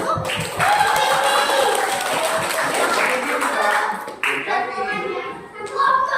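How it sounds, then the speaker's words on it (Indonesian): Pupils clap together at an elementary school orientation assembly, a loud sustained burst of clapping with children's voices mixed in, fading briefly then rising again near the end. "Sekali lagi tepuk tangan."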